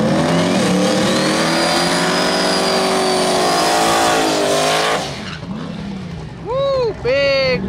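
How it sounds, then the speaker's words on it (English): A drag racing car doing a burnout during a drag week event: a loud, sustained engine roar and tire squeal that cuts off, then sharp revving bursts rise and fall, close and dominating the scene. "burnout by Ruby over here"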